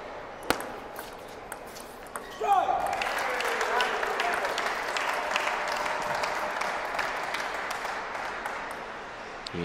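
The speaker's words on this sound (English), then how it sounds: "Now you hear the Mulhausen faithful cheering for their guy." Partisan home crowd at a table tennis team championship quarterfinal in DC breaks into loud, sustained applause and cheering after a sharp ball hit, with a commentator talking over it.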